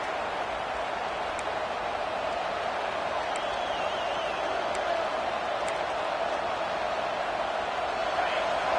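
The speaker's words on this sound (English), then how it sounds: "This crowd trying to make life miserable for this offense." A stadium crowd at an Alabama at Tennessee game in College Football 26, a steady roar filling the background evenly throughout, with a few faint whistles rising above it.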